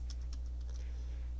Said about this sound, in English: now I just use the keyboard to navigate the graph, and I don't use the mouse at all